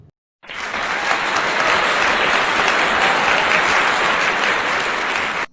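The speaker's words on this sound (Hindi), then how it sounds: "जोरदार तालियों से आपका स्वागत।" Loud, dense audience applause at a poetry gathering welcoming a poet to the stage, starting abruptly and holding steady for several seconds as a close wash of clapping before cutting off.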